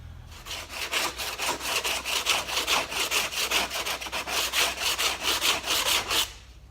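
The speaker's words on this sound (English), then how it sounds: "then I can give that a nice smooth sand off" Hand sanding smooths white filler on a model viking ship, with about twenty steady back-and-forth rasping strokes close up and evenly paced, stopping abruptly near the end.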